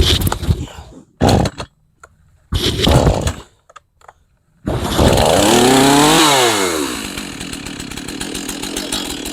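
A chainsaw on half choke gets several short pull-cord tugs, then fires and revs up loud and close, settling into a steady rough idle.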